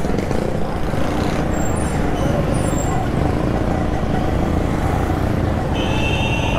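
Steady, loud road traffic with buses, cars and motorbikes rumbling past on a congested city street, with a brief high hiss of an air brake near the end and faint voices in the background.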